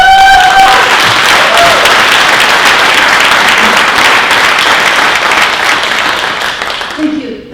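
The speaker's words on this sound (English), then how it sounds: "The applause are so nice because other years I kind of had to try to prompt them." Sustained, loud audience applause fills a university awards ceremony, the Torch and Shield Awards at the University of Minnesota Crookston. The clapping is steady and thick throughout, then tapers off at the very end.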